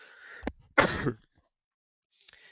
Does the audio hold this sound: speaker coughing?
yes